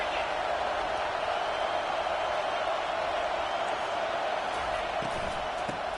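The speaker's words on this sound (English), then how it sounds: "this crowd is turning it up a notch" A football stadium crowd roars at a steady high level throughout, a broad continuous wash of cheering with faint thumps and no clear talk over it.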